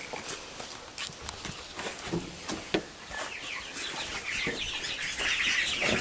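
Chickens cluck and chatter nearby amid scratching and shuffling footsteps, with brief taps scattered throughout.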